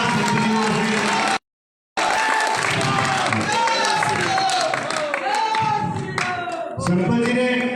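A large outdoor crowd applauding loudly at a Hindu mahapanchayat, dense sustained clapping and cheering with voices mixed in, cut by a brief dropout of silence early on.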